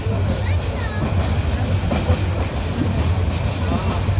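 A train runs along the rails with a steady, loud rumble and rhythmic wheel clatter heard from close by, likely from on board, with faint voices underneath.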